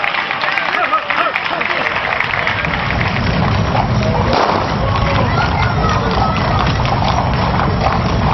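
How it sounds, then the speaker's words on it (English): Black horses pull carriages through an outdoor gathering by the Danube, their hooves clip-clopping continuously over a busy wash of crowd noise and murmuring voices. "black horses are pulling the carriages in all directions"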